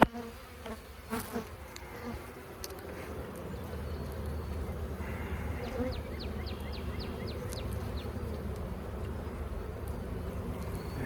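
Honey bees buzz in a dense, steady swarm drone during a hive inspection, swelling louder and continuous after some early clicks and handling noises, heard up close outdoors.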